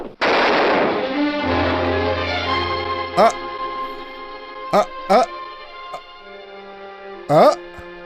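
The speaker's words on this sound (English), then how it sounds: "She freaking shot him." Gunshot in the 1947 film noir Out of the Past: one loud, sharp shot at the start decaying into a sustained ringing tone, followed by film dialogue and background music.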